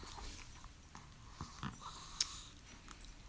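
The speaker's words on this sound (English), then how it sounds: "so here's your daily dose of the puppies." Pet puppies snorting and whimpering close by in a home, soft sniffs and snuffles with faint mouth noises and one sharp little click, low and unsteady throughout.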